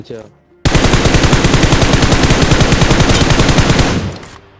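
M416 rifle in the video game BGMI firing one long continuous burst of rapid, loud, evenly spaced shots for about three seconds before it fades out.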